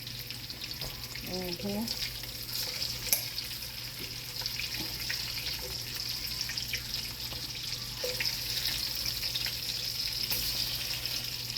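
Sausages fry in grease in a pan with a continuous close crackling sizzle and occasional pops, a brief clink of utensils early on, the hiss growing slightly louder toward the end.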